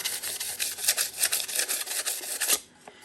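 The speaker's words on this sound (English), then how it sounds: "now I'm just gonna go and sand it to where it's nice and even" Sandpaper of 220 grit scrubs over an epoxy-coated tumbler in quick, rhythmic back-and-forth strokes, close and raspy, stopping abruptly near the end.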